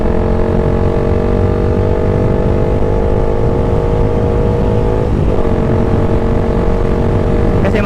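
A Suzuki Gixxer motorcycle engine pulls under load, a loud steady droning hum close by, its pitch shifting briefly midway.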